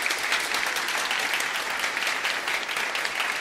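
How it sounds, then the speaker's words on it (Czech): An audience gives a medium-strength round of applause at a live Wallachian folk song and dance ensemble show, a dense, steady wash of clapping lasting a few seconds without a break. "Pojďme udělat takový střední potlesk, jakože fakt, jakože to bylo dobré, trošku hlasitější."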